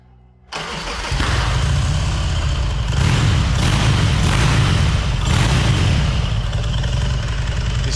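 A custom motorcycle engine cranks and fires after a short quiet moment, then settles into a loud, close, steady rumbling idle with a slight swell in volume.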